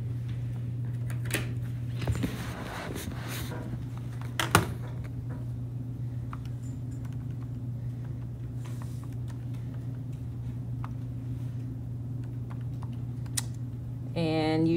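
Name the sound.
typing numbers on a calculator keypad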